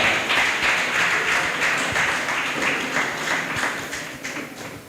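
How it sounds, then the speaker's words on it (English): An audience at a live education panel discussion claps steadily for a student representative, a dense wash of many hands, fairly loud, tapering slightly toward the end. "I thought for a student representative, you would clap harder."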